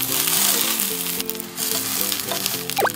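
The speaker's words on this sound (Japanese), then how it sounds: "具材を詰めた揚げをフライパンに並べ、そこに焼き目がつくまで焼きます。" Fried tofu pouches stuffed with pork and bean sprouts sizzle loudly in a frying pan as they brown, a continuous close hiss broken by a few small pops and faint utensil taps, with no talking.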